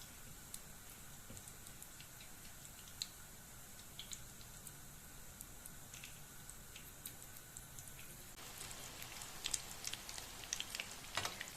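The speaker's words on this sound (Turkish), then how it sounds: "Kızgın yağda Patateslerimizi kızartıyoruz" Soft, continuous sizzling and crackling of potato patties frying in hot oil, with scattered pops and ticks that grow a little busier toward the end.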